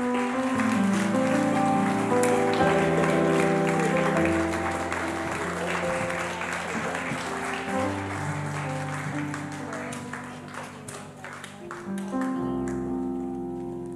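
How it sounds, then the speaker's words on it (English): Worship congregation clapping steadily under loud live music with sustained tones and a preacher's voice, a dense wash of hands that continues for the whole stretch before the band drops near the end. "I keep on clapping."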